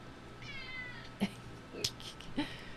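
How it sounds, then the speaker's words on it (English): House cat meowing loudly indoors, three short insistent yowls spaced about half a second apart, close by over a faint steady background hum. "And the cat's yelling at me."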